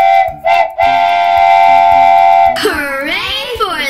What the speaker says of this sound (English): Here comes Miss Rabbit's train and carriage into the station.